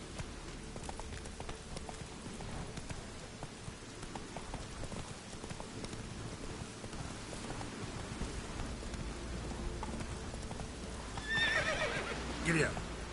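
Roach, the horse in The Witcher 3: Wild Hunt, neighs near the end over steady clip-clop hoofbeats and patter of rain, with a voice urging the horse on.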